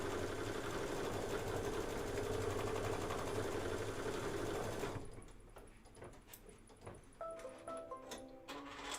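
A Kimberbell embroidery sewing machine stitches out a design with a steady, dense mechanical whir for about five seconds, then stops, leaving quiet clicks and a few soft electronic beeps.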